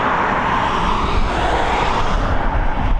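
A propeller airliner takes off at Dublin Airport, its engines roaring loudly and steadily throughout at close range, a broad continuous drone with no break.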